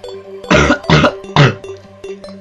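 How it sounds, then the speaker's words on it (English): Three harsh, forceful coughs in quick succession, loud and close, with quiet game background sound in between and no talking. "Bloody cough."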